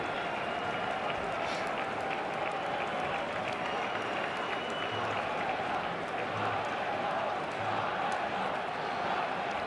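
A stadium crowd at an AFC Champions League football match between Al Shabab and Al Jazira applauds substituted players, a distant, steady rumble of clapping and crowd noise.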